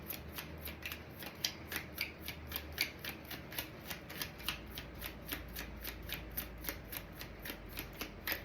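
Tarot cards being shuffled up close, a quiet, even run of crisp riffling flicks repeating in a steady rhythm with no voice.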